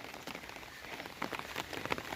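Rain falls steadily on surfaces outdoors, a dense, soft patter of many drops with brief brighter splashes, continuous and moderately quiet throughout.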